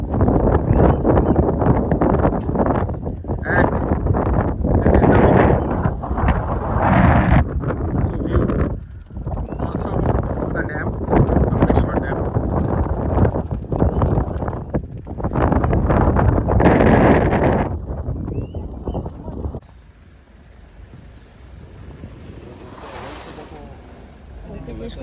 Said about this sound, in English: Cool breeze blowing.